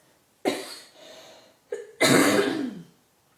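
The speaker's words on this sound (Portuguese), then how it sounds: "por que eu tenho que tossir cada vez que eu vou fazer live?" Someone coughs a few times, alone and close by, with a short burst, a softer rasp, then a heavier, longer cough.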